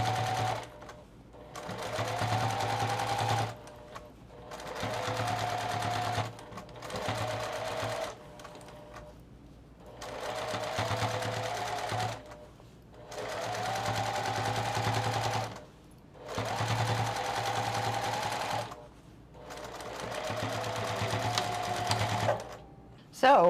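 Serger sewing machine stitching gathers on a skirt made from upcycled dresses and jeans, running in about six loud bursts of rapid whirring with short pauses between, close to the microphone, with people talking in the gaps.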